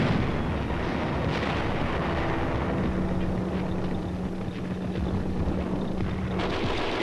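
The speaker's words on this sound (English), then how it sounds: "Enemy fire is encountered." Enemy gunfire and artillery on a Korean War-era battlefield near Hill 148, a dense continuous rumble of distant booms and crackling shots under steady roar, with no voices.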